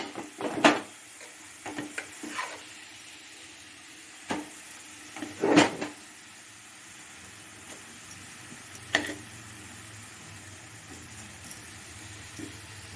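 Cooked rice being stirred in a frying pan for an amla rice dish, with sparse scraping and clinking of the spoon against the pan over a quiet background.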